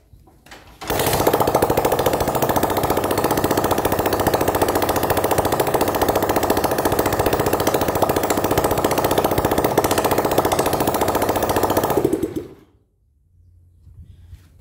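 A rebuilt motorcycle engine fires up and runs loud and steady, a rapid hammering clatter that holds for about eleven seconds before it cuts off abruptly and leaves quiet behind.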